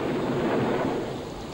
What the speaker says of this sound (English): Torrential rain combined with fierce lightning has made conditions too dangerous to proceed.